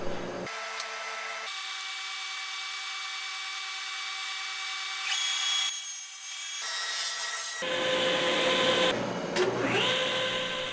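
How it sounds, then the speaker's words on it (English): A table saw cuts a slot in a wood board held against a miter gauge: a steady motor whine, then the blade bites into the wood with a louder rising roar that fades back toward the idle hum, close and without talk. "With the boards clamped to my miter gauge, I make the first cut on the outside of the slot."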